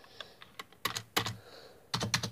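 Typing on a computer keyboard, producing sharp, quiet clicks in irregular bursts with short pauses between groups of keystrokes, heard close up with no talking.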